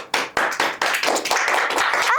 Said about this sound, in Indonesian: Coba tepuk tangan dulu, mana yang keras,